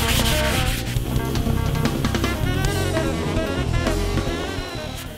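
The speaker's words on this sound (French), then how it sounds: "Vient ensuite le ponçage final." Final sanding of a handmade wooden light-up sign, a steady abrasive rubbing with rhythmic back-and-forth strokes, close and fairly loud throughout before easing slightly at the end.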